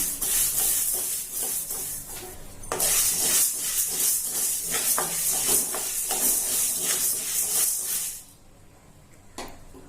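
Urad dal and coriander seeds dry-roasting in a pan, a steady bright hiss with small scraping and stirring ticks that runs continuously, then drops away suddenly near the end, leaving only faint taps.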